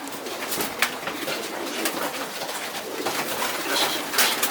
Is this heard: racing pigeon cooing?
yes